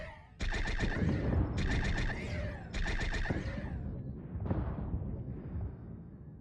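Starship weapons, phasers and torpedoes, fire in the Star Trek Bridge Crew game on PS4 VR. Three loud, rapid bursts of fire come close together, then a fainter fourth burst follows while the noise rumbles on.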